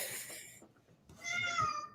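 A cat meows loudly twice, a drawn-out cry then a second bright yowl after a short pause, close up and with no talk over it.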